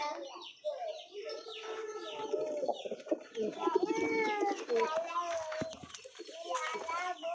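Pigeons coo repeatedly at close range, soft throaty calls overlapping with chirps and a murmur of other birds throughout.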